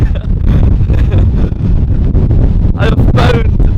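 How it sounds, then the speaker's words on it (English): Strong outdoor wind in the Scottish Highlands buffeting the microphone, loud low rumbling gusts that swell and drop throughout, with a couple of brighter rushes near the end. "It is so windy."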